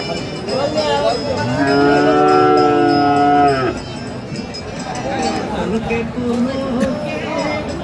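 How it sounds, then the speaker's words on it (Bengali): A loud, drawn-out moo from Friesian or cross-breed bull calves rings out for a couple of seconds, followed by crowd chatter and more distant lowing at a busy outdoor cattle market in Dinajpur. "ষাঁড় বাচ্চা আমরা দেখছিলাম এখানে"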